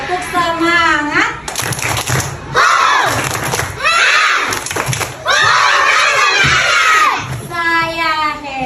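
Grade 1A schoolchildren performing a rhythmic spirit clap chant in a classroom, loud shouted sing-song phrases alternating with bursts of unison clapping, close and energetic.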